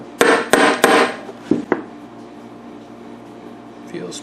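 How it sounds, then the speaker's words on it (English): Three sharp taps on a 1971 Mercury 500 outboard powerhead part being seated into place during a rebuild, quick and close together, followed by two softer knocks, then quiet workshop hum. "I need to tap that in a couple more times"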